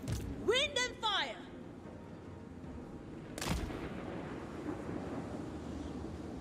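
Artillery fire in a Total War: Warhammer 3 battle, with a loud blast near the start and a sharp boom midway over a constant battlefield rumble, while someone talks over it.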